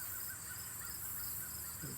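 A few bird calls repeat outdoors over a steady insect hum, moderately distant and evenly spaced.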